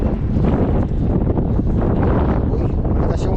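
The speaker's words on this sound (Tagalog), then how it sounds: "malakas yung hangin" Strong wind buffets a fishing boat out on the water, a dense, steady roar that rumbles and gusts continuously across the whole stretch with no talk.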